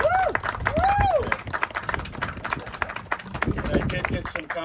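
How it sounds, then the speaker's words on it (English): Crowd applause and cheering at an Arbor Day peace tree dedication, steady clapping with whoops over a voice speaking. "Give them a big round of applause"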